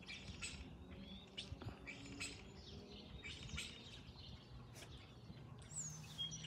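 Scattered chirps and squawks from birds around a starling building its nest outdoors, faint and irregular, with occasional flutter-like rustles.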